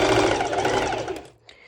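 A sewing machine runs a straight stitch through layered lycra swimsuit fabric, a steady close motor whir for over a second that cuts out abruptly, followed by a faint brief sound.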